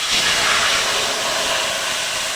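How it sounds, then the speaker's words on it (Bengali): Water poured into a hot pan of fried spices hisses loudly, a dense steady steam sizzle that fills the short clip and eases off slightly toward the end. "আমি এবার কড়াইতে জল দিয়ে দেবো"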